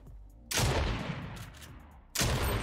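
Gunfire in the Fortnite video game, a shotgun being fired: two loud, sharp blasts about 1.6 seconds apart, each with a long ringing tail, with no voices over them.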